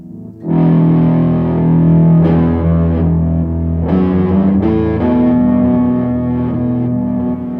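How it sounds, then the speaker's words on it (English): Guitar run through an octave pedal set to add a low octave, with distortion engaged: thick, sustained distorted chords with a heavy low end, played loud and close, changing every second or so without any talk. "Goes really well if you add distortion."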